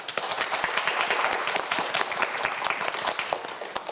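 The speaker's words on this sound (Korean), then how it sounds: "네 학생 모두에게 여러분 큰 박수 부탁드립니다" Studio audience applause for four student contestants on a science quiz show, brisk, dense clapping from a crowd, fairly close and lively, with individual claps popping out of the steady roar.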